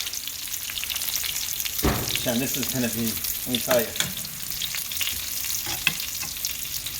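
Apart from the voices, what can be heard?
chicken cutlets frying in a pan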